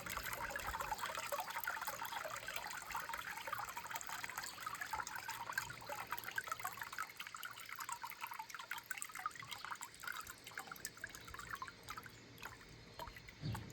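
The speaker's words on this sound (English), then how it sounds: "we're going to wait for the water to drain out of the screen" Water drains from paper pulp mixed with flower petals through a papermaking screen, a faint continuous trickle and patter of drips that thins out toward the end.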